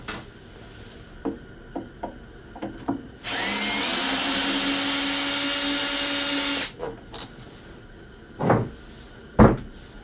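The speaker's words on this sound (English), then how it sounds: "Never mind, I'm using the drill." A power drill runs steadily for about three seconds, loosening the valve cover on a Stihl BR 600 backpack blower during a tune-up, framed by scattered clicks and knocks of tool handling.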